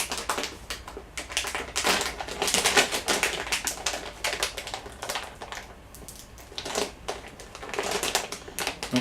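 A GoPro accessory package being opened up close, with dense crinkling plastic and rapid tapping and crackling handling noises in uneven bursts, no talk.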